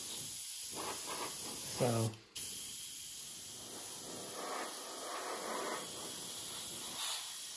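An aerosol can sprays paint onto a Tamiya 1/48 P-38 F/G model aircraft in light coats, a continuous close hiss with a brief break, and a person speaks once mid-spray.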